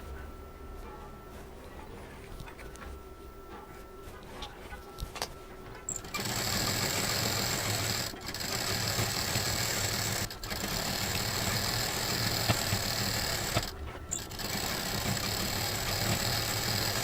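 A sewing machine stitching patchwork fabric starts after a quiet stretch of small handling noises, then runs loud and steady with a continuous whirring hum, stopping briefly twice before carrying on.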